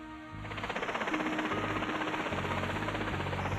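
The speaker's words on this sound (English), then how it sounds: "a rescue helicopter winches up 14 of the survivors and flies them back to Aberdeen" A rescue helicopter airlifting survivors of the Grampian Freedom to Aberdeen makes a steady, pulsing rotor thrum and engine whine that builds over the opening second and holds at moderate loudness, with no voices heard.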